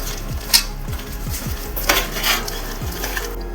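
Marinated prawns being mixed by hand with lemon juice in a metal bowl, giving a run of soft clattering, scraping strokes at a steady rhythm, close and fairly quiet, with no talking.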